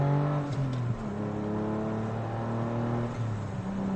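Sports car fitted with a Fabspeed Supercup exhaust revs steadily, its engine tone rising and falling through several pitch shifts as gears change, loud and close with no talking.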